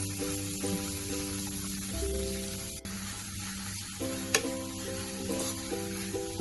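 Onions with salt frying in a pan for chicken biriyani give off a soft, continuous sizzle with occasional stirring scrapes, quiet and close, and no one speaks.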